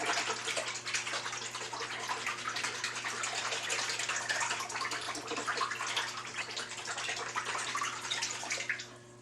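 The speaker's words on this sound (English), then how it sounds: "I'm just going to stir these fibers and get them suspended evenly." Paper pulp fibers being stirred by hand in a vat of water, a steady sloshing, swirling wash of liquid that continues without pause at close range and fades out at the end.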